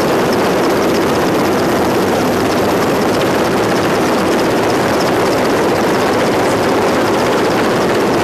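A helicopter carrying a film crew over a snowmobile route along the Ob river, a loud, dense, continuous rotor and engine roar that stays steady and close throughout with no voices.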